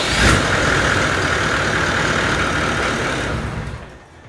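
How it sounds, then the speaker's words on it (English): A car engine runs after an oil change, a steady broadband idle roar that holds evenly for several seconds before tapering off, close and loud with no talk. "So I'm going to chuck this dipstick back in, start the engine up, and we'll go from there."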